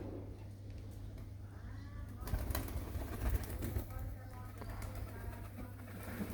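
Young pigeons coo faintly in a loft, low rolling calls under a steady hum, with a louder scuffle of wings or movement partway through.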